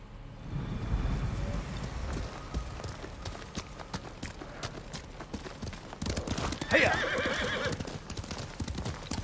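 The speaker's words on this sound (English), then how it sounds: "Found out that if I sprint with my horse" A horse sprints in the Ghost of Tsushima video game, its rapid hoofbeats drumming steadily, with a whinny breaking through midway and a voice speaking over the ride.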